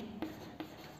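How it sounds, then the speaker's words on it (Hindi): Chalk writing a sentence on a classroom board, two quick faint taps of the stick against the surface over a steady hushed room background, without any talking. "मैं आपके सामने एक सेंटेंस लिख रहा हूं"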